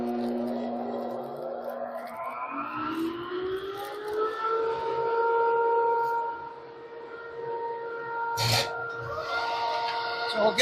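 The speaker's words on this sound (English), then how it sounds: "I'm going to turn the vacuum on." A shop vacuum starts up in a woodworking shop, its motor whine rising in pitch as it spins up, then holding a steady drone with a brief sharp clatter near the end.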